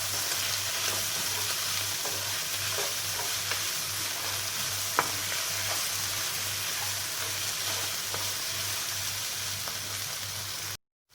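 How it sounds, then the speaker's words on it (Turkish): Meat kavurma sizzling in a pan as cumin, thyme and chili flakes are stirred in, a continuous close frying hiss with soft scraping strokes of the spoon, no talking. "Tüm baharatlarımızı iyice karıştırıyoruz"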